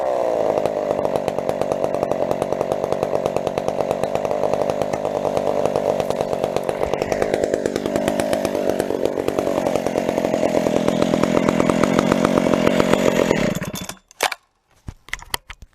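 A Husqvarna 372 XP chainsaw runs at high, steady revs while cutting trees. The loud, close buzzing engine note holds continuously, then cuts off abruptly near the end, leaving a few clanks.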